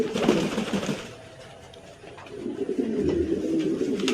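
Pomeranian pigeons coo at a pigeon farm loft, a layered chorus of low, throaty rolling calls from several birds close by, steady throughout with no talk.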